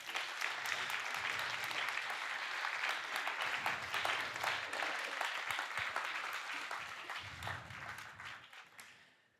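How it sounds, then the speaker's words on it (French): Sustained applause from an audience at a musicians' day round-table, thanking the speakers, a steady rain of hand claps that holds for several seconds and then fades away, heard at a distance. "Merci beaucoup, on peut vous applaudir."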